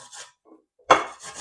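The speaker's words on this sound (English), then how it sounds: "We are gonna grate the turmeric. Yeah, we are gonna grate it like so." Fresh turmeric root is grated on a flat plate, with a few short raspy scraping strokes, the last one loudest and closest.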